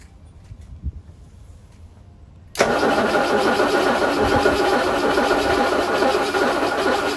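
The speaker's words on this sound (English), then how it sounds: "we should see a spark as I crank it over" A Ford Capri 2.8i engine turns over under the starter, a quiet stretch of faint knocks giving way to a sudden, loud, steady churning crank that continues evenly to the end.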